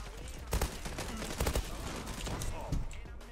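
Gunfire in the online shooter Zula, including a SCAR-L rifle, with short bursts of shots popping out over steady game ambience, and someone talking quietly underneath.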